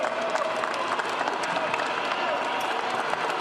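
Applause from a crowd greets the head coach at the Los Angeles Lakers' Western Conference championship celebration after beating the Denver Nuggets. The clapping is steady and moderate, with a voice speaking over it.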